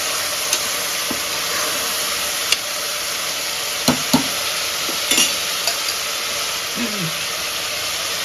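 Beans masala frying in a pan and being stirred: a steady, loud sizzle with occasional sharp scrapes and clacks of the spoon against the pan.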